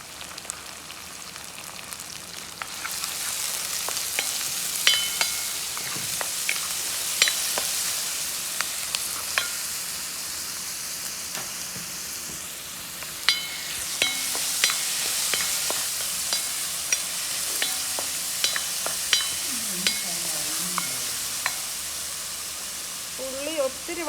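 Curry leaves with crushed ginger and garlic fry in hot oil for a papaya fish curry, a steady close sizzle hissing throughout with occasional stirring clinks and scrapes, someone talking softly over it.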